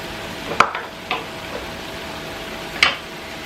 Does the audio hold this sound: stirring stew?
yes